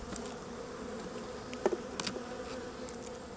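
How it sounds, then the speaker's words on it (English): Honey bees buzzing around an open hive during a split, a steady close drone of many wings with a few sharp knocks and clicks of handling breaking through. "I'm going to shake as many bees as I can into the box"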